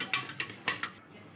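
Kadhi batter thinned with water being stirred in a pot, giving a few quiet, irregular clinks and scrapes of a utensil against the metal, spaced out over a short stretch with no talk.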